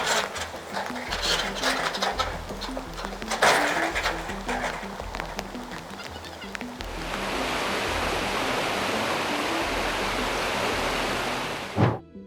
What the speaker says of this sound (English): A road being washed out during a flash flood.